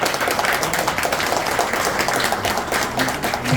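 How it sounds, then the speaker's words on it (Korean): Audience applause fills a small hall as a Daejeon mayoral candidate is welcomed onto the stage at an arts community meeting, a steady dense clapping held at even loudness throughout. "박수로 환영해 주십시오."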